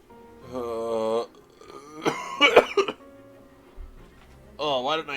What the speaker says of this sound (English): It was a really bad coughing spell right then.